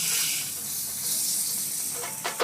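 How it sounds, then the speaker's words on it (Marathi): Hot water poured into fried instant Shipi amti masala sizzles with a loud, steady hiss that builds and then crackles in short bursts near the end. "तर हा परतलेला मसाला याच्यात आपल्याला गरम पाणी ओतायचंय."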